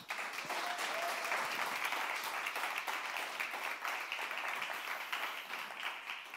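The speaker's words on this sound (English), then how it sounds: "a big applause for EP Checkup" A livestream audience applauds a pitch team at a tech pitch finale, steady dense clapping sustained throughout at moderate distance, with no talk over it.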